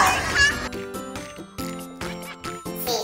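A cat meows once or twice over a bright, bouncy children's tune.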